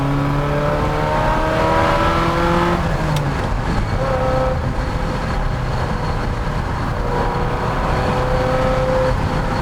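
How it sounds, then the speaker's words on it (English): A Ferrari 348 GTB V8 engine with an aftermarket Capristo exhaust hums steadily close by, its pitch gliding up and down through manual gear changes, with a slight exhaust rasp and no voices. "Now the owner changed the exhaust to a Capristo, but frankly, it's not too intrusively loud."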